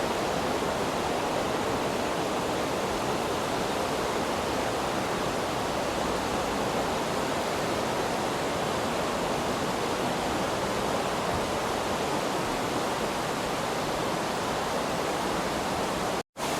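Dense, unbroken roar of a mountain waterfall pouring down into the Aareschlucht gorge in Switzerland, loud and close for the whole stretch, cutting off abruptly at the very end.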